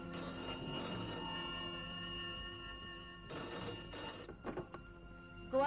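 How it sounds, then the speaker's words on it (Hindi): A telephone bell rings in a Hindi film scene, a steady metallic trill that runs for several seconds, stops, then gives a couple of shorter bursts, heard alone without talk. "फोन."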